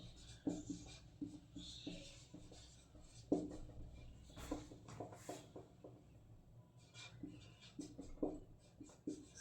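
Pen scratching out the letters A, B, C, D on paper during an alphabet reasoning lesson: a run of short, dry strokes in quick bursts, close and quiet with a faint room hiss, no one talking.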